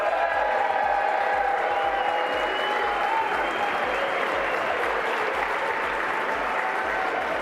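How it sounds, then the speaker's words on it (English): Sustained applause fills the House chamber during the vote count for Speaker, a dense, steady clapping from a large crowd that runs loud and unbroken throughout. "Now, I endorse that applause"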